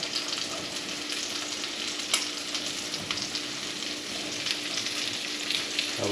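Zucchini sizzles steadily in butter in a pan, a close, continuous frying hiss with occasional crackles and faint stirring scrapes, no voices.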